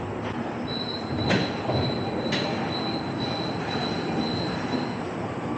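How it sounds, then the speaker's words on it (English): A rubber-tired metro train arrives at a station, giving a steady rolling roar with a thin, high sustained whine and a couple of sharp clanks, close and fairly loud, with no talking. "It's a rubber-tired metro."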